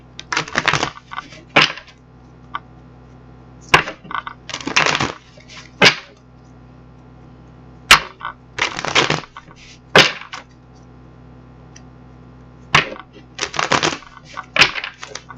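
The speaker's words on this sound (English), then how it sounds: "let's get the other deck shuffled up" Bursts of tarot cards being riffled and shuffled, several quick flurries separated by pauses, close and crisp.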